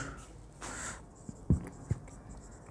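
A pen writes on paper during a physics lesson, with soft scratching strokes and a few distinct taps as it moves, close and quiet, with no talking.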